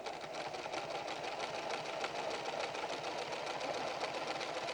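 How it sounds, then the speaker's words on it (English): Steady, fast mechanical whirring and rhythmic needle clatter from a Pfaff Creative 7550 sewing machine stitching rings, continuous and close with no talk. "guide the foot so the next ring will be sewn as close to the first as you can get"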